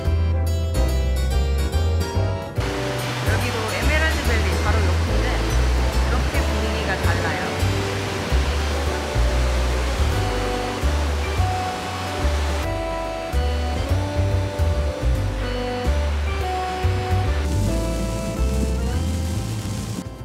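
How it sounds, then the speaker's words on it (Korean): Strong ocean waves crash against the rocky Guam shore in a continuous heavy roar of surf, with surges breaking close and loud and no letup. "우와, 파도 같은데 되게 세네."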